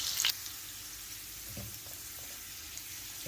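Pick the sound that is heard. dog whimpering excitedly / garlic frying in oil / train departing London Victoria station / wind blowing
garlic frying in oil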